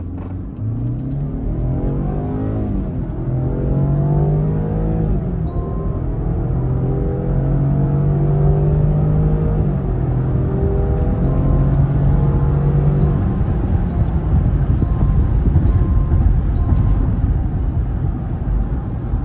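A Land Rover Defender in sport mode launches from a standstill and accelerates hard. The engine drone climbs steadily through the gears, loud and continuous, over heavy road and wind rumble.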